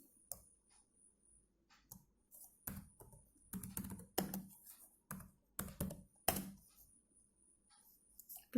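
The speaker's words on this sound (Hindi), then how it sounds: "सो मैं यहाँ पे टाइप कर देती हूँ" A file name being typed on a computer keyboard in Windows 7: irregular bursts of close, crisp key taps with short pauses between clusters and no talking.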